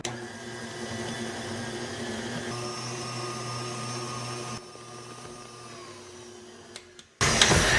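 An electric beater whirs steadily through chocolate cake batter in a home kitchen, a continuous motor hum that dips in pitch partway through, then stops, followed by a brief burst of louder clatter at the end.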